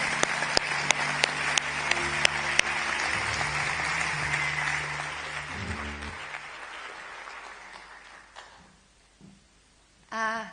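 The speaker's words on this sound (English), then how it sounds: "Please, another round of applause for Ingrid Horrocks." Audience applause at a book awards ceremony, steady clapping with a few sharp nearby claps that fades away after several seconds, leaving a quieter room before a brief final rustle.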